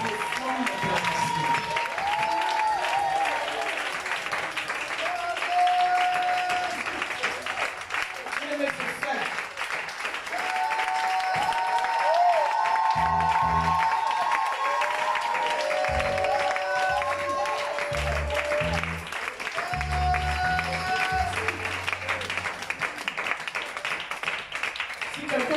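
A church congregation applauds and acclaims during a French-language service on prayer: sustained clapping mixed with raised voices calling out and cheering, with bursts of heavier clapping recurring throughout.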